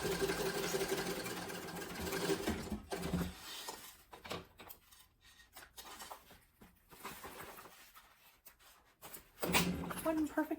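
A sewing machine stitches a sling bag in bursts, its rapid mechanical whir starting and stopping between pauses, close by and moderately loud.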